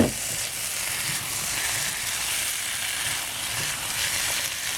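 Sauce for a Hunan chicken stir fry sizzles loudly and evenly in a hot pan, a close, continuous frying hiss with faint stirring scrapes beneath it.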